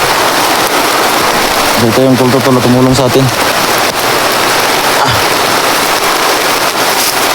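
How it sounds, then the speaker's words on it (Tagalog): Heavy rain pours down in a steady, dense hiss for the whole stretch, while someone speaks close by under the downpour. "Lakas ng ulan tol."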